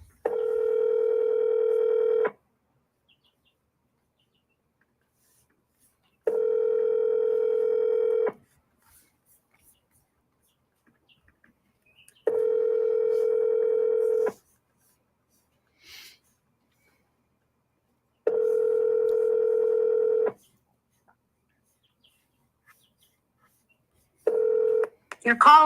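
Telephone ringback tones while calling a land seller, a steady tone repeating in long even bursts separated by silent gaps, with a brief faint breath between them and no speech.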